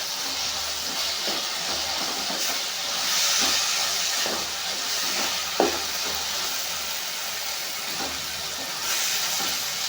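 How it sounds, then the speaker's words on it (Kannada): Two tomatoes frying in a pan give a continuous, even hiss and sizzle, close and moderately loud, with occasional soft pops and one brief scrape partway through. "ಸ್ವಲ್ಪ ಫ್ರೈ ಆಗಲಿ ಟೊಮೆಟೊ ಎಲ್ಲ"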